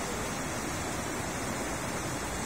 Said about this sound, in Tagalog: Dahil dire-diretso na yung tubig.